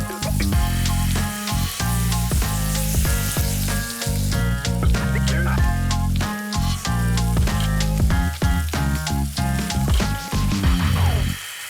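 Cashew sauce for sweet potato noodles hits a hot pan, hissing and sizzling loudly and steadily with sharp clattery ticks throughout, no voices.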